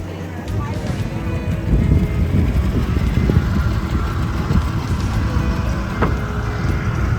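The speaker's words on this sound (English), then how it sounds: "We hop on our boat and begin our 15-minute ride to the island." A small boat on the Nile carrying passengers on a short ride to an island near Aswan, with a steady low engine rumble and wind buffeting the microphone, continuous and close throughout.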